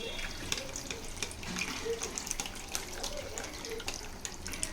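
Water runs steadily from a kitchen tap while fish curry is being cooked, a close, continuous splashing flow that goes on without pause and without talk.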